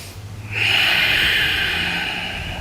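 Steady, loud exhalation during a hip-opening yoga stretch, the knee pushed out to the side, a long breathy hiss lasting a couple of seconds after a quieter start, with no talking.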